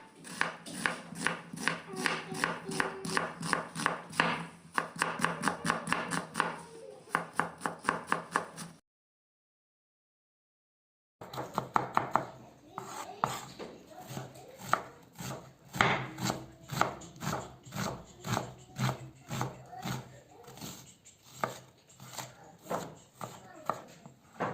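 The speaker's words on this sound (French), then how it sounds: "J'ai pris aussi un oignon, je l'avais épluché, je le coupe en petits cubes." Knife dicing a peeled onion into small cubes on a board: rapid, steady chopping taps close up, a short pause midway, then more quick rhythmic cuts.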